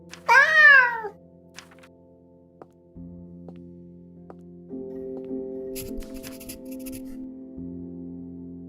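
A cat in the video game Cabernet gives one clear, close meow at the start, followed by soft ticks and scratchy shuffling over a quiet, steady musical drone.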